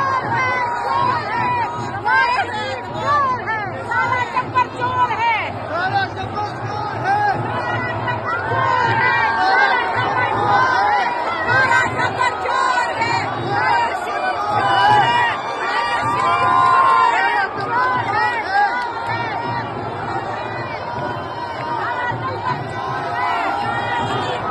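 Large crowd at a political rally chanting slogans in unison, loud and rhythmic with repeated swells, mixed with shouting and crowd noise.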